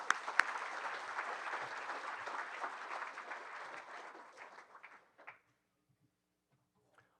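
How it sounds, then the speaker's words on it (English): Applause from an audience at a golf hall of fame ceremony, a broad even patter of many hands that thins out and stops about five seconds in, followed by near silence. "let's give her a round of applause"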